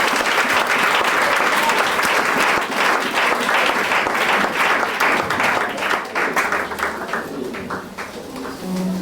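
A church congregation at an evening teaching service breaks into sustained, dense applause, loud and continuous before thinning slightly toward the end.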